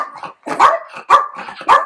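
A dog barks sharply about four times in quick succession, close by and loud, with short gaps between barks.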